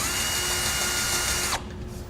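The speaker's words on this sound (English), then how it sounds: "We'll drill a pilot hole and enlarge it finally to 17/32." A power drill bores a pilot hole into solid steel backing with a loud, steady whine and grind, then stops abruptly near the end.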